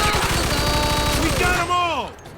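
A machine gun fires at a buzzsaw in Mafia 2, a fast, steady rattle of close shots that ends in a descending whine as the firing stops, with a voice shouting over it.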